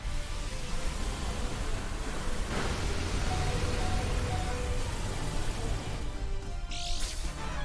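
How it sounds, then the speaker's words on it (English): Steady rain weather effect in the Pokemon Shield video game, a dense continuous hiss of falling rain at an even loudness throughout, with no talking over it. "Ooh, but now it's starting to rain."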